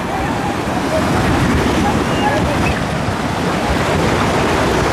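Sea waves surge and break on the beach at Himchori, Cox's Bazar, a steady, loud wash of surf mixed with wind buffeting the microphone, with no clear pauses.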